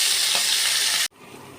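Garlic paste frying in hot oil for a Malabar spinach dish, a steady loud sizzle for about a second before it cuts off sharply, leaving a faint quieter hiss.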